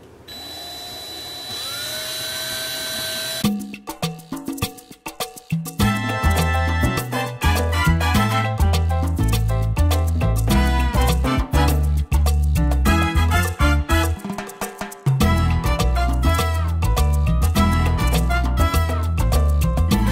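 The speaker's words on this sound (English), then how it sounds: "And I'm using these self-tapping screws." A power drill driving self-tapping screws into a plastic mealworm farm container, with a brief high whine first, then loud, choppy bursts of whirring and grinding close by.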